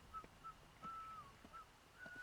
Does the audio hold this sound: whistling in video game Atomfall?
yes